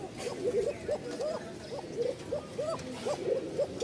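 Giribaz pigeon cooing in a repeated rhythmic series of soft hooting calls, a thin, high-pitched voice, close by with no talk over it.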